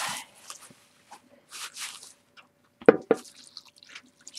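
Hands mixing a sticky paste with warm water, giving sparse wet squelches and drips, with a couple of sharper sloppy slaps near the end, fairly close and quiet.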